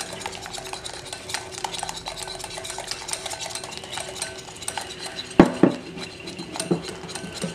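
Homemade mayonnaise whisked in a bowl, with a quiet, steady scraping and tapping of metal against the dish, plus a couple of sharper clinks near the end.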